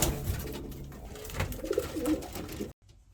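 Pigeons coo in a loft of young birds being paired up, soft low throaty calls over busy rustling and fluttering nearby, ending abruptly in near silence.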